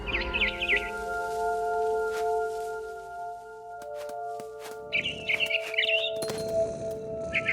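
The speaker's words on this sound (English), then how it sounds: "It was a barn swallow going back to her nest." A barn swallow chirps in the video game What Remains of Edith Finch, giving short bursts of quick twittering calls at the start and again later, separated by a quiet stretch with sustained background tones and a few sharp clicks.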